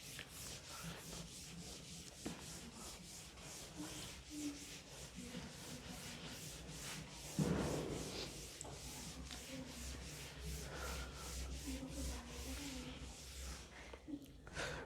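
Writing is rubbed off a board during a chemistry lesson: steady, rhythmic scrubbing strokes run close and continuous for about fifteen seconds, with one louder scuff partway through.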